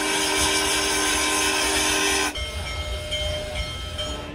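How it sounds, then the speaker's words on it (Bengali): A departing train in an audio drama sound effect: loud steady hiss with whistle-like tones for about two seconds, then it drops to a rumbling, rolling clatter that carries on to the end. "হঠাৎ ট্রেন ছাড়বার শব্দ শুনে বৃদ্ধ ভদ্রলোক কামরায় উঠে পড়লেন।"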